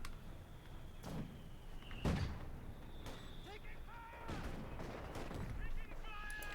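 Gunfire in the World War II strategy game Company of Heroes 2: a few sharp cannon and gun blasts spaced a second or so apart, with battle clatter and mechanical noise, under a commentator's continuous talk.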